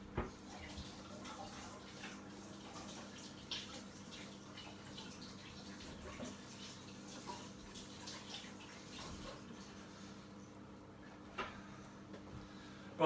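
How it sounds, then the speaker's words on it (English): Hands are rinsed under a running tap in a kitchen during a cookery class, a soft continuous flow of water with faint clinks and drips, fairly quiet throughout. "I'm going to wash my hands."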